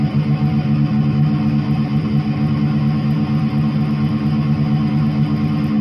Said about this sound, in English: it kicks in with just a bunch of mute alternate picking